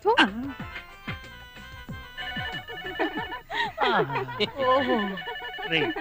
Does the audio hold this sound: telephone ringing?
yes